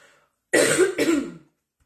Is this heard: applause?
no